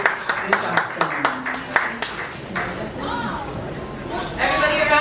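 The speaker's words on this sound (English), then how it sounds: "Everybody, a round of applause." Applause rises for the chairman of a beauty pageant, Mutya ng Pilipinas, at an afternoon event: sharp scattered claps, then a spread of crowd clapping that keeps going under a host's amplified voice and chatter.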